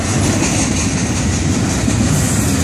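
FEC freight trains meet and pass at Micco, Florida: a loud, continuous rumble and clatter of rail cars rolling by close at hand, steady throughout, with no talk over it.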